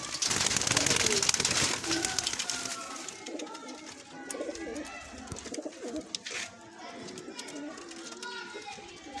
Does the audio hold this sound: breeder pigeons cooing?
yes